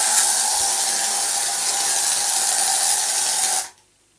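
A continuous, loud hiss of an aerosol spray can for about three and a half seconds, then it stops abruptly into silence.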